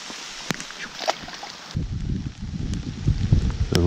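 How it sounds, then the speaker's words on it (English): Rain falls on water and surfaces around a fishing spot during a snakehead and largemouth bass outing, a soft steady patter that thickens into denser low rumble partway through, with brief handling knocks near the mic. "The rain is slowing down."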